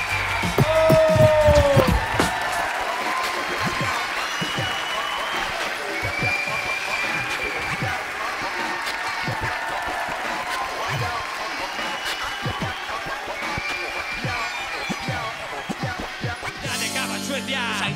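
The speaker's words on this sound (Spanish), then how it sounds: "¡Pero quiero un aplauso!" Crowd applause and cheering at a rap jam event, a steady wash of clapping with scattered shouts and voices mixed in, continuing throughout at moderate loudness.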